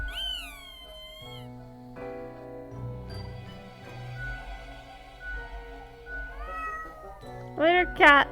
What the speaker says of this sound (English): I got the achievement for making the cat mad